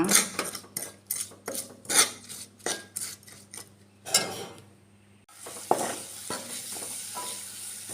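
Chili powder masala for a sweet lime pickle cooking on a low gas flame, with rhythmic scraping stirs of a spoon against the pan over a soft sizzle, close and loud, no voices.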